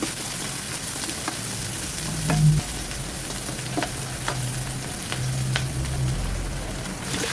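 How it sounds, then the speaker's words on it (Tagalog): Onions and garlic sauté in a pan for a goat dish, producing a continuous frying sizzle with occasional stirring clatters and brief utensil taps throughout. "Sunod naman natin igisa ang sibuyas."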